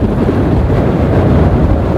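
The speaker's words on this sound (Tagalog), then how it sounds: "napakalakas ng hangin, grabe" Steady, loud wind buffeting the microphone during a cycling road race, a continuous low roar with no breaks.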